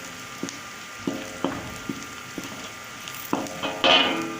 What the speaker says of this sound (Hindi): जब तक हम प्याज ब्राउन करते हैं